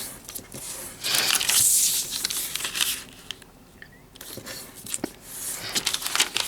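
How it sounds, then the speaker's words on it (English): Sheets of origami paper being folded in half by hand, soft crinkling and creasing rustles in short bursts, close and quiet, with brief pauses between folds. "Now fold in half."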